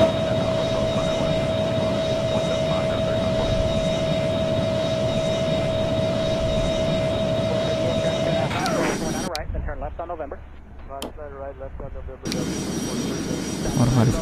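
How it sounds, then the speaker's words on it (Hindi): Boeing 717 jet engines in flight in the Airline Commander video game give a steady broadband roar with a constant whine. A short interruption breaks it near the end, then the roar returns. "हमारी फ्लाइट 350 नॉट्स टच कर चुकी है, 1700 फीट पर उड़ रहे हैं।"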